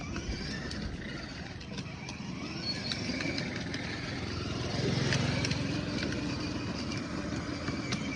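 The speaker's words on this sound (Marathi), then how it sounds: "एक साईडला घे. गाडी आली." A vehicle passes on a road, its engine drone swelling to a peak midway then easing off, steady and moderately near under outdoor background noise.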